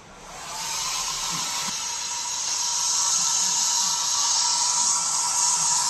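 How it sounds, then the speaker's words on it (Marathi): A hair dryer blows air over a computer motherboard from a distance, a steady loud whooshing hiss with a faint motor whine that builds slightly and holds. "फक्त लांबून असा ब्लो करून घेऊया आपण ठीक आहे हेअर ड्रायरने आपण काम"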